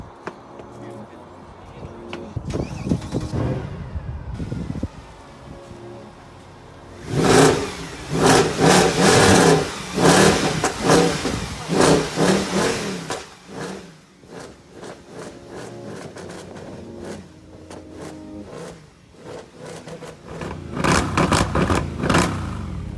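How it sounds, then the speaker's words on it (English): Mercedes C63 engine revved repeatedly, several loud bursts of revving rising and falling, with someone talking near the car between revs. "I'll give a few revs for the lads."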